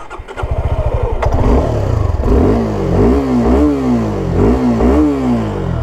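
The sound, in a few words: Suzuki Gixxer SF 250 motorcycle engine starting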